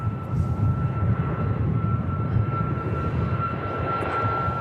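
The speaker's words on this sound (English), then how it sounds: "And the Ryanair flight heading back out to Malaga." A Ryanair Boeing 737 MAX 8 jet departs Manchester Airport for Malaga, heard from a distance as a steady engine roar with a faint high whine, constant in level throughout and without voices.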